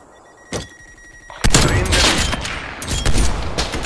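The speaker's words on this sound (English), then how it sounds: "Yeah, they got a sentry gun." Gunfire from an enemy sentry turret in Call of Duty: Black Ops Cold War, a single sharp report followed by a loud, dense stretch of sustained automatic fire with rapid overlapping shots.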